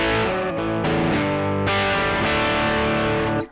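Electric guitar played through the dirty channel of an amp with the pedals switched off, a run of loud distorted chords and sustained notes ringing out, each new strike swelling before fading at the end.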